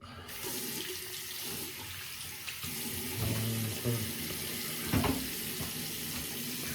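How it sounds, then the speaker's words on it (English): Tap water runs steadily into a sink for rinsing during a head shave with a RazoRock Game Changer .84 razor, a continuous close hiss with a few small clunks partway through. "So quick rinse right here."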